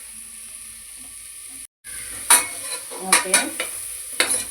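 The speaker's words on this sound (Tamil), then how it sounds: "இந்த வெங்காயம் வந்து நல்லா பொரியணும்" Onions fry in a pan with a steady sizzle while a utensil stirs and scrapes them, giving a few sharp clinks up close; a short spoken word comes just before the stirring starts.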